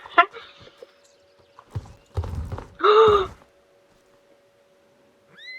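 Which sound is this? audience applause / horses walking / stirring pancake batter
horses walking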